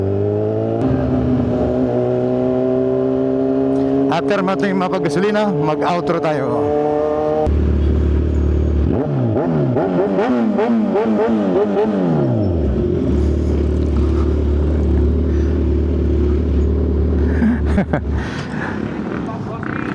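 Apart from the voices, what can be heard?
motorcycle engine revving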